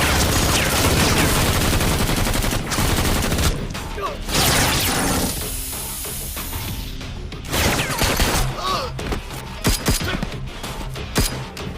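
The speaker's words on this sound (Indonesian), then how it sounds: "Saat terdengar suara tembakan di luar di mana Aju dan Victor akan melihat keluar," Gunfire from a harbour shootout in a film crackles in dense bursts, with rapid automatic fire and scattered single shots, loud and close, easing into quieter gaps between volleys.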